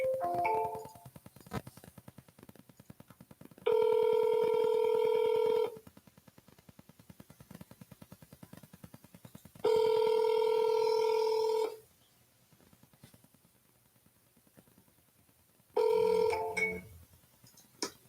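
A smartphone calls a for-sale-by-owner home seller, and the ringback tone sounds in three loud, even bursts, each about two seconds long, separated by long, quieter gaps of faint line noise.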